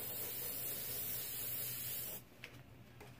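Airbrush spraying paint over a hand-cut stencil, a steady close hiss that stops abruptly after about two seconds, leaving quiet room tone.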